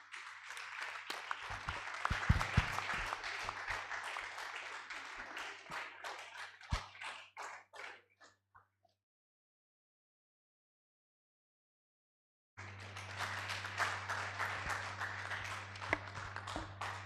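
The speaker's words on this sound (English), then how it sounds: "Please, another round of applause for them" Audience applause at an annual medical symposium and journal launch, dense clapping that swells, thins and cuts to silence, then resumes loudly and keeps going.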